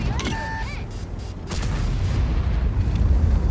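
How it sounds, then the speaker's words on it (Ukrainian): Artillery fire in the World of Tanks tank game, a brief whistling tone followed by a low rolling boom that builds into a sustained rumble. "Тут артилерія."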